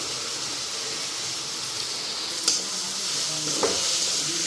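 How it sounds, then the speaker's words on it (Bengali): Moong dal fries with spices in a pan, giving a constant hissing sizzle with a couple of sharp scraping knocks from stirring. "মশলাটা এখানে ভালো করে ফ্রাই করে নিই। এখন এদিকে মুগ ডালটা দিয়ে দিই।"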